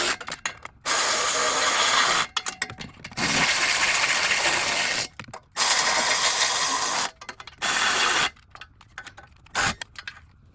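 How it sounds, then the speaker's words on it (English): Ratchet snugging down header bolts on a 6th-gen Camaro SS during a header install, heard as bursts of rapid clicking ratcheting strokes separated by short pauses, close and fairly loud. "You come back with a ratchet or a wrench and snug them all down."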